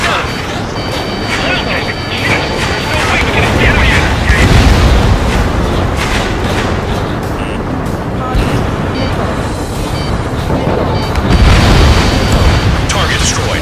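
Bombs dropped on a pipeline target in the combat flight game Ace Combat 7 burst in loud, continuous booming blasts with a rumbling low roar, swelling again near the end amid dense battle noise.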